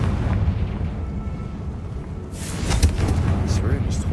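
A Confringo fire spell in Hogwarts Legacy bursts into a loud blast partway through, a sudden broadband boom with crackling debris that rises over steady ambient game rumble.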